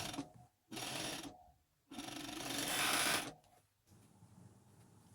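Sewing machine running in two bursts of steady whirring as it stitches a jersey sleeve, the second burst longer, close and fairly quiet with no talk.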